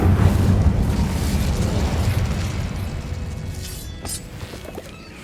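Casting the Incendio fire spell in Hogwarts Legacy on Xbox Series X releases a loud roaring whoosh of flame that slowly fades, with a few sharp crackles and pops near the end.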